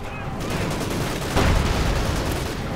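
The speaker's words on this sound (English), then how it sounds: "machine guns blazing into the Bolsheviks" Machine guns blaze in a World War-style video game battle against Bolsheviks near a cemetery, a dense continuous burst of rapid automatic fire with a heavier thump partway through, loud and close.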